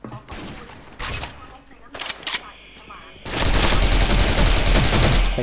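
A toy guitar shaped like a gun fires its shooting sound effect: bursts of rapid electronic gunfire and crackling shots, loud and close, growing into a dense continuous barrage toward the end.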